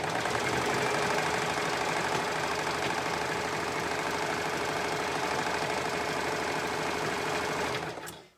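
Sewing machine stitching thin stretchy knit fabric for a shirt, a steady fast close mechanical whir running without a break until it stops at the end.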